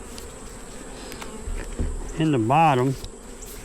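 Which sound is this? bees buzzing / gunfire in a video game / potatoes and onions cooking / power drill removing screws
bees buzzing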